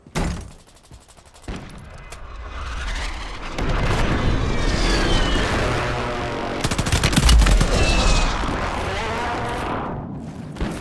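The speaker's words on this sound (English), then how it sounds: "Precision airstrike inbound." Precision airstrike blasts in Warzone 3 game audio: a sharp crack near the start, then a long stretch of loud rumbling explosions and crackling gunfire, with a heavy boom peaking around the middle.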